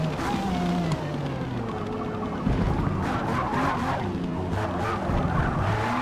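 Car tires skidding and squealing under heavy braking into a chicane in Forza Motorsport, with a loud continuous racing engine note and tonal tire squeal sweeping across several seconds.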